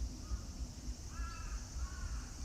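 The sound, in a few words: crows calling in a Tokyo park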